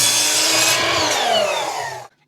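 A saw cuts through a wooden board, giving a steady, close, rasping whine for about two seconds before stopping abruptly. Nothing else is heard.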